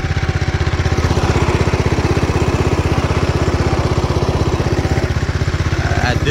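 A Club Car golf cart converted from electric to a gasoline engine runs for the first time, its small engine chugging in a fast, even, loud putter close by, throttled only by a lever on the engine.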